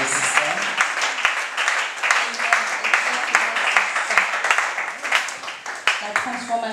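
A church audience breaks into sustained applause, a dense, steady wash of many hands clapping with sharp individual claps popping through, filling the room throughout.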